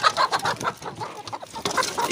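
Hungry chickens cluck busily at feeding time, a close, continuous chorus of overlapping clucks and short squawks with no talking.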